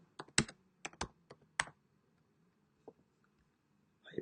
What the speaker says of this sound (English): Let me just type in hype instrumental